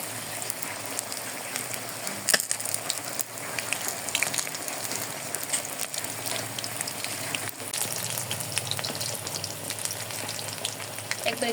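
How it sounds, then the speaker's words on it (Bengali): Pumpkin or bottle gourd leaves deep-fry in hot oil, a steady dense sizzle with crackling pops throughout, loud and close, no voices. "একবারে ক্রিস্পি ক্রিস্পি করে ভেজে নেব এটা।"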